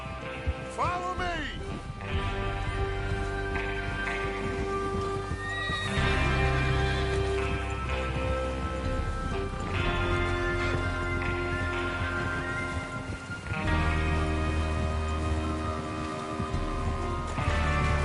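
Horses whinny loudly several times amid clip-clopping hooves and ambient music, with occasional voices in the background, in the video game Red Dead Redemption II.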